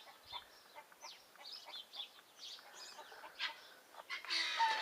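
Guinea fowl chicks cheep indoors in a kitchen, a rapid scatter of thin, high peeping calls close by, with a brief louder burst near the end.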